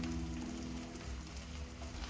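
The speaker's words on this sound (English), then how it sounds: "Then I'll add in my onions. Then I'm going to saute this till they start turning translucent." Onions sautéing in hot cooking oil, giving a steady, soft, even sizzle with no pauses and no talk.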